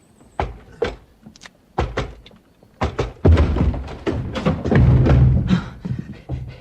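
Heavy thuds and thumps batter a locked door as it is broken down in a radio play: irregular close blows build into a louder burst of splintering impacts and rattling, with no voices over them.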